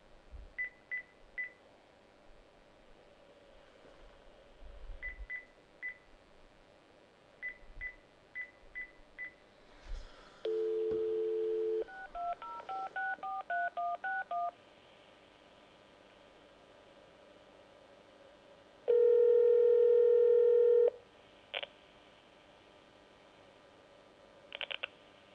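Telephone dialing tones come over a phone line, with short beeps and keypad tones spread across the call, a few longer steady tones, and quiet line hiss between them.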